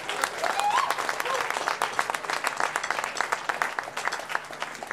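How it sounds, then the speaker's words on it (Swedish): Audience applause at an outdoor summer culture event in a Skövde courtyard, a broad wash of clapping sustained through the whole stretch with steady texture and a few brighter claps standing out. "En stor applåd."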